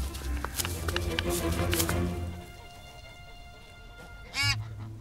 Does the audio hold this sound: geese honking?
yes